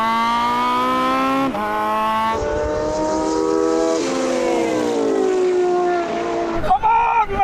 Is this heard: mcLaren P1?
yes